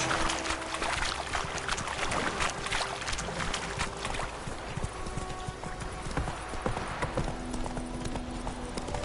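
Roach, a horse in The Witcher 3 video game, gallops with steady rapid clip-clop hoofbeats close up, continuous throughout over a busy game soundscape, with no talk.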